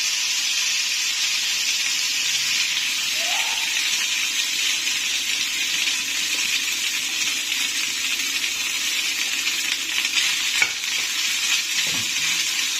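Spices sizzling steadily in a small amount of hot oil for Omani fatira, a close, even frying hiss with a light stir or two and no talk.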